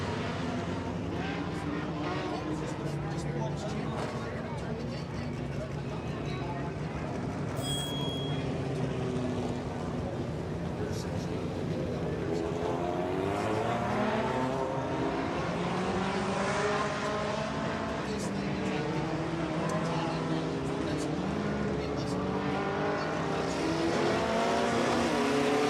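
A modified race car rolls out onto the racetrack, its engine a sustained, growling drone that rises and falls over about twenty-five seconds, with a crowd-filled track atmosphere and an announcer's voice faintly underneath.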